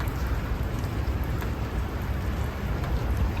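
Heavy wet snow falling outdoors, making a dense, even, rain-like hiss and patter that continues without a break, with no voices.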